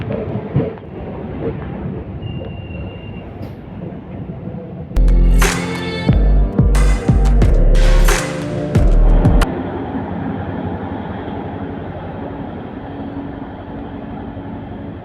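A train rolling toward Sevok station after crossing the Teesta river rumbles steadily and loudly, with a burst of sharp, high clattering and screeching in the middle before the heavy running roar settles again.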